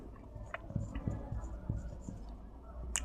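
Chalk or marker writing on a board during a chemistry lecture, with a run of short, close scratchy strokes in uneven rhythm, faint and alone without talk.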